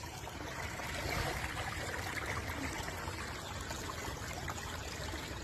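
Irrigation water streams steadily into a rice paddy field in Iran, a continuous broadband rush and trickle that stays even and fairly close throughout, with no voices.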